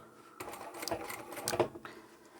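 A short, soft run of sewing machine stitching along the seam of an old men's tie, a brief rattle of needle strokes lasting under two seconds with quiet room tone before and after.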